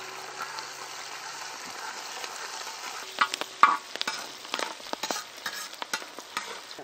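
Chopped shallots and slit green chilies sizzle softly in a pan as a spoon stirs them with scattered scraping and clinking strokes, a quiet village kitchen scene with no talking.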